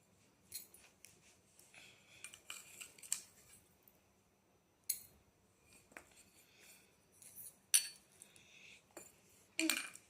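Scissors snip at a plastic shampoo bottle in quiet, irregular cuts. The sharp crinkly clips come in bursts with short pauses between them, close by and otherwise silent.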